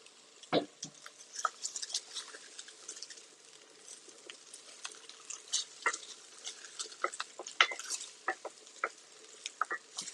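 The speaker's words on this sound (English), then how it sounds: "Sizzling, it's cracking," Pork belly crackling and spattering in a hot pan, irregular pops over a soft, steady sizzle, with no talking.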